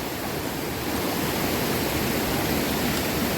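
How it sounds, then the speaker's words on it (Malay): A mountain river on a jungle trek rushes past close by, a dense, loud, unbroken wash of flowing water with no talk over it. "ni sungai yang pertama kita akan lintas"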